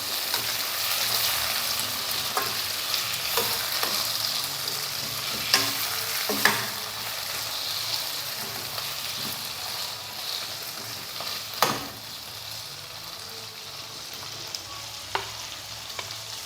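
Tomato pieces frying in a pan, a soft steady sizzle with scattered scraping clicks of a spoon stirring them, quiet and close with no talking.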